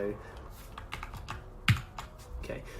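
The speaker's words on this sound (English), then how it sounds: "So I used Command Option H to make the computer highlight that text." A computer keyboard shortcut, Command Option H, is pressed to highlight text, giving a few scattered clicky key taps close by, with one sharper tap near the middle and quiet background.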